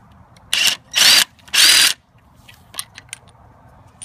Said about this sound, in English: using the 18 millimeter socket, we're going to remove this center bolt in the crank.